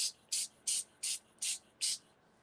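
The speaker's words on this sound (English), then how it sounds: "we're gonna spray our paper" Six quick, evenly spaced hissing spritzes from a spray bottle spraying water onto old book paper, close and crisp, with short pauses between each.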